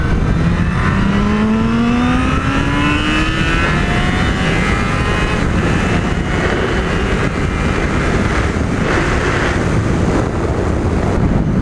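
A Yamaha FZ6 Fazer motorcycle engine revs up loudly past 6000 rpm, its pitch climbing steadily as it accelerates. Heavy wind rush runs underneath throughout.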